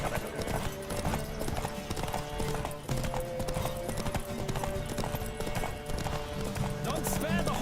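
Horse galloping in The Witcher 3, a steady rapid clip-clop of hooves running continuously throughout, with game music and voices layered over it.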